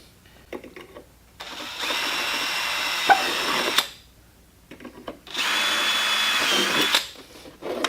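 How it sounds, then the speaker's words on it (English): Two bursts of a power drill with a number 36 bit whirring at high speed, each running a couple of seconds, with quiet handling noises before and between them. "And now I'm going to use a drill."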